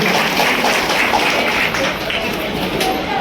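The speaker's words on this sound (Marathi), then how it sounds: "या ठिकाणी आपण टाळ्या वाजवून जोरदार स्वागत करूया." A crowd claps steadily for several seconds at an Adivasi Day celebration, the applause dense and even with a murmur of voices underneath.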